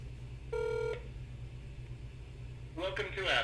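An outbound phone call placed through the Twilio calling service gives a sustained half-second ringback or dialing tone over a low steady hum, then goes quiet until a voice comes on the line near the end.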